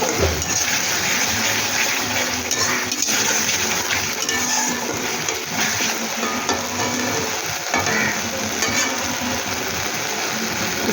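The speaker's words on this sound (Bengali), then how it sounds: "এবার এটা আমি ভালো করে কষিয়ে নেব।" Spice masala with salt sautéing in oil for a Bengali pabda fish curry, a steady dense sizzle with scattered scraping clicks from stirring, close and continuous throughout.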